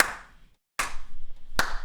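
Two sharp hand claps ring out alone, spaced under a second apart, with a short silence before the second clap and the ring of the first fading slowly.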